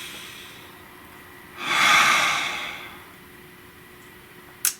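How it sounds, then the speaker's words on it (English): A single deep breath drawn in through the nose, a close, breathy rush lasting about a second and slowly fading, followed by a brief click in an otherwise quiet room. "Nice deep breath."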